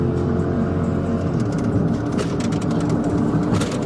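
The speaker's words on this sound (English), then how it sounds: "The suspect takes off, weaving through traffic on 285, but so does Ace" A suspect's car races away from police through traffic on highway 285, with a steady, loud engine and road roar and brief whooshes of passing vehicles.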